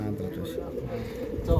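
Pigeons of a crossbred, home-bred racing line in a loft at Pandharpur give soft cooing amid steady background noise, with someone talking nearby.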